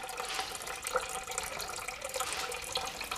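Water pouring steadily into a basement perimeter trench during a waterproofing job, a continuous splashing rush that holds even and fairly close throughout, with no talk.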